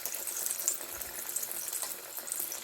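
Potato cutlets (aloo tikki) fry in hot oil over a low flame, giving a steady, close crackling sizzle with a bright hiss that carries on evenly throughout.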